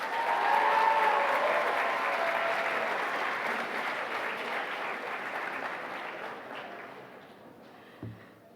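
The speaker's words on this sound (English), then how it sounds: "can we give a round of applause to those students living in Fifth and Neville?" An orientation-night audience in Rangos at Carnegie Mellon applauds students living in Fifth and Neville: sustained, loud clapping from a large crowd that gradually thins and fades, ending with a single soft thump.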